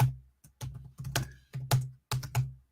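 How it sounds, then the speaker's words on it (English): Brisk bursts of keyboard typing, keys clacking loudly and close in quick irregular clusters separated by short pauses. "As I hammer the keys"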